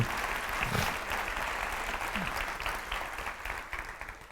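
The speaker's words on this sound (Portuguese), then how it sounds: "Vamos aplaudir mais forte, gente?" Church congregation applauding during a sermon, dense sustained clapping from a large crowd that holds steady for several seconds before easing slightly.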